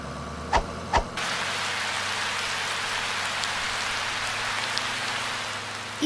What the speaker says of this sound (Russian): В дождь